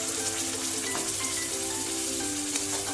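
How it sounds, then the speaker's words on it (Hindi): Ground tomatoes hit a pan of frying onions, setting off a steady, close sizzle with crackling pops and faint stirring while bhindi do pyaza cooks; no talking. "अब मैं इसमें अपने टमाटर डालूंगा जो हमने पीसे थे।"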